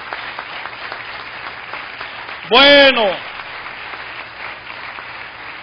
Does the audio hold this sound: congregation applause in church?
yes